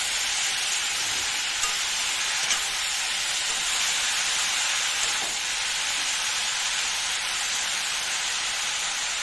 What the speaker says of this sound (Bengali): এবার নাড়াচাড়া করে নেব।